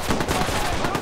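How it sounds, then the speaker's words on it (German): A short, dense rattle of rapid gunfire in the video game Watch Dogs, loud and continuous for about a second. "Achtung, Schüsse!"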